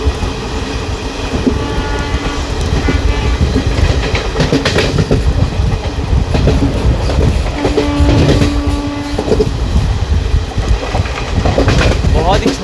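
A passenger train on a scenic Vistadome run in Jharkhand, between Ranchi and Giridih, rumbles and clatters steadily as it overtakes a freight train, with rhythmic wheel clicks and a brief horn-like tone midway, loud and continuous.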